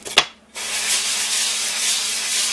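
An oil stone scrubbed flat and clean by steady rubbing, a continuous close gritty hiss that starts after a brief knock and a half-second pause and then runs on alone.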